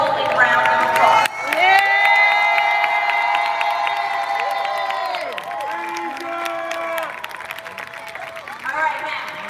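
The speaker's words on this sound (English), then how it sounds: "Let's give them all a round of applause." A crowd cheers, whoops and applauds the class of 2022 graduates at the Friendship Technology Preparatory Academy graduation ceremony, loud and sustained with high shouting voices throughout.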